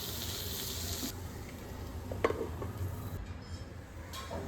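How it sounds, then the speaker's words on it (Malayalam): Chopped tomatoes cooking in a covered pan with spice powders for a soya chunks roast, giving a steady soft sizzle and hiss close up with faint clinks, no voices. "2 തക്കാളി അരിഞ്ഞത് പാനിലേക്കിട്ട് മൂടി വെച്ച് വേവിക്കണം"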